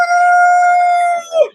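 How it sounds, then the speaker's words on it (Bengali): A Tiger breed chicken on a poultry farm gives a single loud, close, drawn-out crow, steady and tonal for over a second before a brief falling tail, with no other sounds around it. "এগুলো হচ্ছে টাইগার মুরগি"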